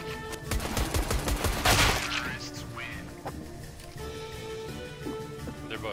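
Rapid gunfire crackles in a shooting video game, including Mag 7 shotgun blasts, as a dense burst of sharp close cracks over the first two seconds before fading into softer game noise while a player talks.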